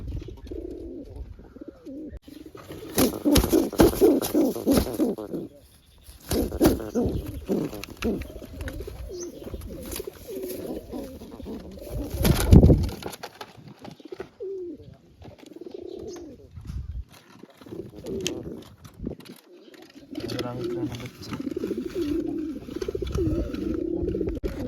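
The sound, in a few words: pigeons cooing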